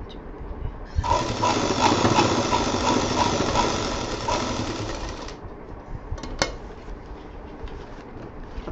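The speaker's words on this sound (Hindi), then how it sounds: "तो यहाँ पे हम फिर एक सिलाई दे देंगे" A sewing machine stitches a belt onto a shiny handmade bag in a steady, fast mechanical whir that runs for about four seconds, then stops, leaving quieter handling sounds and a brief click.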